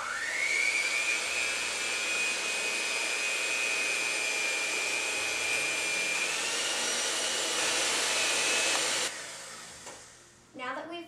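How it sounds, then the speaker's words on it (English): An electric mixer whirs steadily as it beats egg whites for coconut waffles, a loud continuous whine that holds for about nine seconds before cutting off, followed by a few faint clinks. "we're going to beat our egg whites for about 1 minute or until they form a peak"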